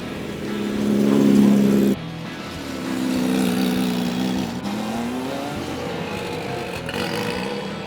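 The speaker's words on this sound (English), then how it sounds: "The cars are leaving pit lane and stretching their legs out on the track." Race car engines roar and accelerate out of pit lane at Daytona, pitch rising as the cars pull away, one after another at moderate distance with no voices.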